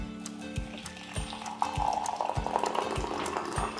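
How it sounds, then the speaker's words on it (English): Hot water is poured into a mug holding a stainless steel tea infuser basket, a close, continuous trickling fill that swells into a fuller gurgle partway through. "and then you top off with hot water."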